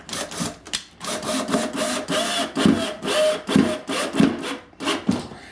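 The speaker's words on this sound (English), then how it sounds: "So now we'll just run our screw in." A screw being driven into a pre-drilled hole in wood to mount a hook in a bedroom, heard up close as a run of rhythmic grinding, creaking turns with short pauses between them.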